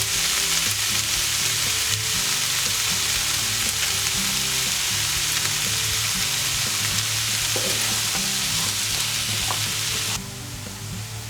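Frozen spinach sizzles steadily in a hot pan after salting, a dense, even frying hiss that holds loud and constant, then drops slightly in level at the end.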